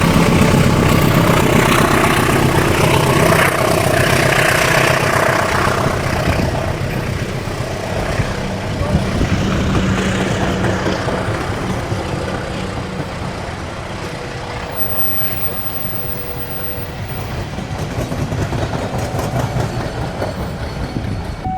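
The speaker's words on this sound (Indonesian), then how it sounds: "ini malah ada kereta api Sri Tanjung dari stasiun Lempuyangan tujuan Ketapang berangkat stasiun" Sri Tanjung passenger train departing Probolinggo station, a loud continuous rumble of engine and rolling wagons that swells and eases slightly, with no talking.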